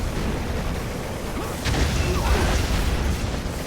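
Rocket hits and explosions in a Red Alert 3 battle, a muffled mechanical rumble building to a louder burst of booms and crashes partway through, heard without talk.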